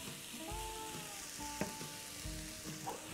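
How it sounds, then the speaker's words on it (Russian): Vegetables sizzle steadily in a hot pan, a constant frying hiss with a few faint clinks. "пока овощи обжариваются"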